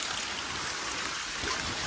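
Rainwater pours steadily into a storage tank during a heavy monsoon downpour in Gujarat, a continuous broadband rushing and splashing close by with no talk over it.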